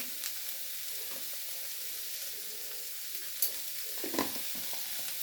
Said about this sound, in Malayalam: നന്നായി വരട്ടി കൊടുക്കുക